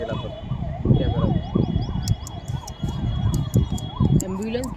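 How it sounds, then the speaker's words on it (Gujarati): An ambulance siren wails in a repeating rising-and-falling pattern near a river rafting spot in Rishikesh, fairly close and loud, mixed with traffic noise and people talking over it. "એમ્બ્યુલન્સ કેટલી જાય છે?"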